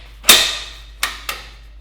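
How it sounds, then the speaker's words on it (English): Metal clamps being snapped and tightened onto steel pieces while tacking together a welded coffee table, three sharp metallic clacks, one louder followed by two quicker ones, close and alone. "take our clamps, clamp these into position like so"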